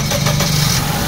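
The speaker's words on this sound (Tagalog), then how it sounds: "Okay, engine start." Suzuki Solio automatic car engine, with an auto-shutdown fault, running at a steady idle just after starting, a continuous close mechanical hum without voices.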